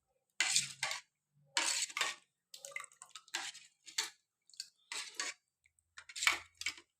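A ladle stirring a thick mixture in a pot. The scrapes and clinks come in short, separate bursts with quiet pauses between them, close by and fairly soft, and nobody speaks.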